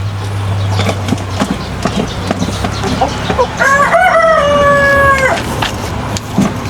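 A rooster of a pricey organic native chicken breed crows once, a loud, near, drawn-out cock-a-doodle-doo rising and holding before trailing off, over low background rumble and scattered farmyard clatter.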